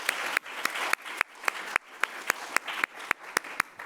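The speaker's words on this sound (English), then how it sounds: "round of applause for Dr. Esposito" Audience applause for Dr. Esposito at a college faculty and staff awards celebration: a dense, steady wash of clapping fills the room, with sharper individual claps landing at an even pace.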